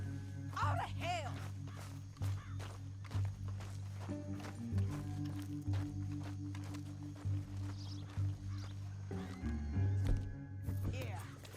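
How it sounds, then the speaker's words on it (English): A horse in the Red Dead Redemption 2 video game neighs and clip-clops at a steady walk, with hoofbeats and snorts close by over a low, droning game soundscape. "that sure is Shane Finley coming off the back of his horse"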